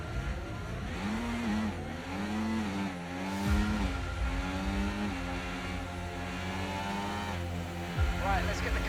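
Racing car engine on a warm-up lap at the Mexican Grand Prix in a racing video game, revving up and down through the gears with repeated rising pitch sweeps, loud and close, with a voice talking over it.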